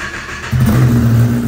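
A new Kawasaki ZX-10R motorcycle engine catches and settles into a loud, close, deep rumbling idle after a brief moment of quieter noise, with no talk.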